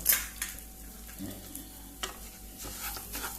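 Semolina roasts in ghee in a pan for Goan laapsi, a soft continuous sizzle with occasional scraping stirs and faint clinks of the spoon against the pan.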